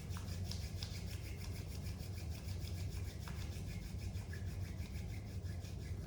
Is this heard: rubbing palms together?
yes